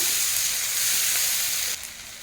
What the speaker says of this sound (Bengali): এটাকেও এর সঙ্গে নাড়িয়ে মিশিয়ে ভাজতে থাকবো।